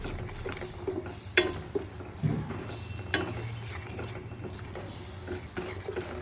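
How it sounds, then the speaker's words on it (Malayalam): Gooseberries (nellikka) added and stirred into a Kerala-style pickle gravy in a pan, with a low bubbling sizzle and several soft scraping stirs and clacks of the spoon, close up. "ഇപ്പം നമ്മൾ നെല്ലിക്ക ചേർത്ത് കൊടുക്കുകയാണ്."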